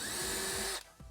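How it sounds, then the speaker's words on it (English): A power drill bores holes into van drawer cabinetry, a high steady whine that cuts off abruptly, followed by a brief quiet mechanical click. "we're gonna drill these holes"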